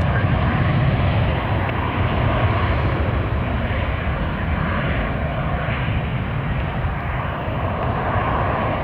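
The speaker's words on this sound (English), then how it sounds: "Getting up above the ground, retracting that landing gear." Jet airliner taking off and climbing away from the runway with landing gear retracting, a steady broad engine roar that stays loud and even throughout at an airport spotting location.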